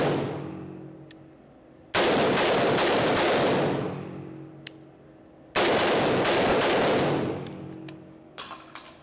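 An automatic rifle fitted with a foregrip fires two long, loud bursts of rapid shots, each ending in a decaying echo, with quiet pauses before, between and after.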